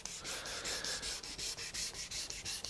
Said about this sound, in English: I go up the grits up until 2000 grits sandpaper.